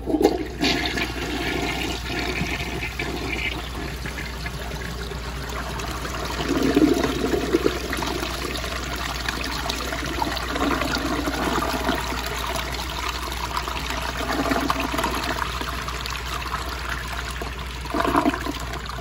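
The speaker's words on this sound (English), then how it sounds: "I'm gonna do an overfilled tank flush" A round 1977 Vitromex toilet with an overfilled tank flushes in one long, steady, loud rush of water that stays strong for the whole stretch, with small surges along the way and no talking.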